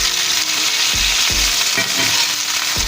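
Potatoes seasoned with garlic powder and onion powder sizzle loudly in a pan, a constant hiss broken by several soft thumps and scrapes as they are flipped and tossed.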